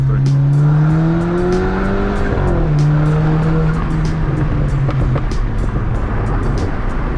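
A 2013 Audi A5 B8.5 engine revs hard and climbs in pitch, shifting through gears with a brief dip, loud and continuous, with a faint tire squeal.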